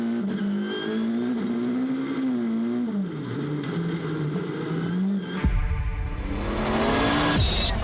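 Close, loud rallycross car at Holjes, Sweden, revving hard and accelerating after landing a jump, engine pitch sweeping up and down before a burst of roar and tyre noise, no voices.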